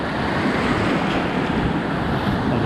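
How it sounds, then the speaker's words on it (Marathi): Ocean waves break and wash steadily onto Anjarle beach near Dapoli in Ratnagiri, a constant roaring surf with some wind, close and loud, with no speech. "बघा ही लाट कशी लागली."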